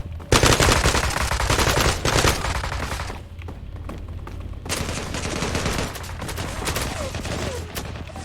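Heavy automatic gunfire from the online shooter Zula rattles in long, dense bursts, loud and close, with a short pause partway through before more rapid fire resumes.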